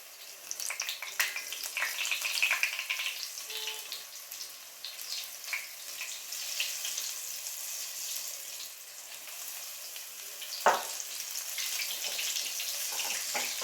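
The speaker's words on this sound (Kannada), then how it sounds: "ಗರಿ ಗರಿಯಾಗಿರುವಂಥ ಮೆಣಸಿನ್ಕಾಯಿ ಬಜ್ಜಿ ರೆಡಿ ಆಗ್ತಿದೆ ನೋಡಿ" Crispy chili bajji frying in hot oil, a continuous bubbling crackle and sizzle with scattered pops, moderately close, plus a brief louder clatter near the end.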